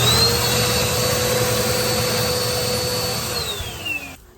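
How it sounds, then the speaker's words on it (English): A household vacuum cleaner runs steadily while cleaning out a lint-clogged dryer vent, its loud continuous motor drone and airflow whine holding for several seconds before the pitch sags and the motor winds down at the end. "That's how you clean your dryer vent with a household vacuum."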